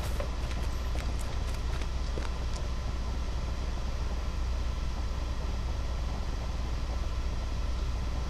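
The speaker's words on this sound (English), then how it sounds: "Now I can hear my footsteps" A LOTRO character's footsteps: faint, steady clopping steps under a loud, constant low rumble of game ambience.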